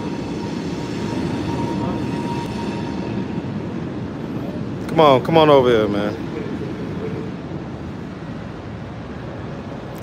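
A train passes near an Atlanta transport hub, a steady low rumble that continues throughout, with someone briefly speaking over it midway.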